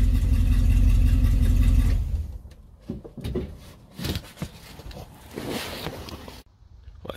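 An old car engine, in need of a muffler, idles with a loud, deep, steady rumble for about two seconds, then cuts out, leaving intermittent knocks and handling noises.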